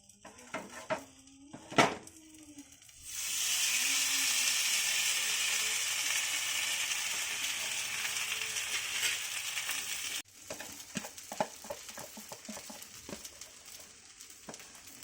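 Loud steady sizzling of sandwiches frying in a pan, starting after a few clinks of utensils and cutting off abruptly, followed by light clattering.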